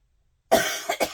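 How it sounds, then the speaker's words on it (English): A person coughs after a moment of silence: one harsh cough followed by two shorter ones in quick succession, close and fairly loud. "Sorry, every time I go to talk, I cough."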